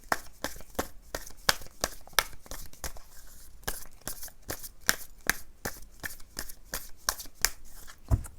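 Tarot cards shuffled by hand to draw an extra card, a close, crisp run of rapid riffling bursts repeating steadily with no voices.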